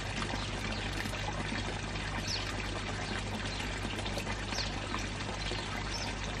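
More water is poured out of a fish bowl, a steady, close, unbroken splashing flow lasting several seconds without any voices.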